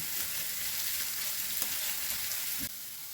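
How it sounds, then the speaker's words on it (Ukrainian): Loud continuous sizzling of eggs with grated fresh garlic frying in a pan, occasional scraping knocks of stirring, the hiss dropping slightly near the end. "Перемішую і смажу приблизно пів хвилинки"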